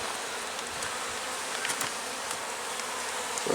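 Honeybees swarm and buzz continuously around an opened nuc box during a queen-cell split, a dense close hum with no talk.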